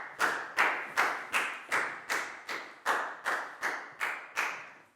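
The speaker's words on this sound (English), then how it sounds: "Big round of applause for Net," Classroom applause for a pupil, heard as a steady run of about eleven evenly spaced claps, each a sharp slap that fades quickly, fairly faint and with no talk over it.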